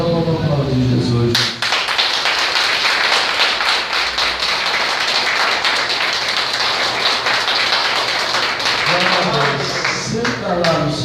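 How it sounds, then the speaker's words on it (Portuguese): A church congregation bursts into loud, dense applause that is sustained for several seconds, with a voice speaking just before it starts and again as it fades. "Então vamos aplaudir Jesus."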